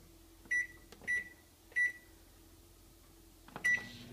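A microwave oven heating a cup of water for coffee gives three short beeps close together, then after a quiet stretch a door click and one more beep, all near and clear with no talking.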